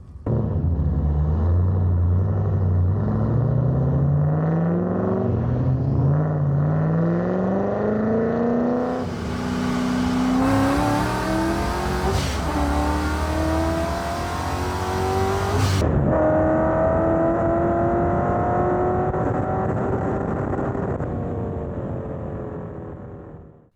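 A supercharged Mazda RX-7 race car accelerates hard, its engine note climbing through repeated gear changes with loud, sustained revving and a supercharger whine, close and dominant with no talk.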